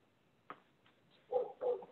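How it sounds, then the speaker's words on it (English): A dog barks somewhere outside, faint and distant: one soft yelp followed by two muffled barks in quick succession against a quiet indoor background. "I have a dog barking somewhere outside."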